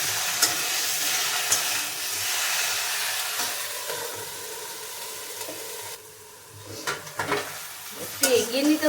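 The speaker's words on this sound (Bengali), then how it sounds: "সবজিতে একটু লবণ দিয়ে দিচ্ছি, দিয়ে ভালো করে নেড়ে ঢাকা দিয়ে দিয়ে ভেজে নেব" Salted vegetables fry in a pan with a continuous sizzle under steady stirring, then scraping and clattering of the utensil against the pan near the end.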